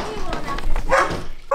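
A dog gives a few short barks and yips close by amid overlapping human voices during a casual home visit.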